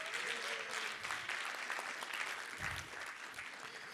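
An audience at a demo day event claps for the Simba Fellows in sustained, fairly faint applause that rolls on evenly with a few louder claps, heard without speech.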